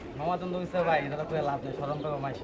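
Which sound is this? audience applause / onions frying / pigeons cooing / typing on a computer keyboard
pigeons cooing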